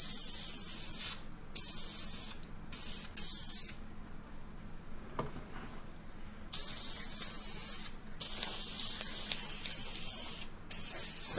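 Spray paint hisses in long bursts as brown coats go onto a paper mache turkey, loud and close with brief gaps between passes.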